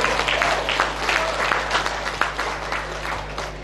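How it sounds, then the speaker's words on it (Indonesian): An audience at a university graduation ceremony applauds, a steady patter of many hands clapping with a low hum in the background, moderately loud and without talk. "Tepuk tangan sedikit."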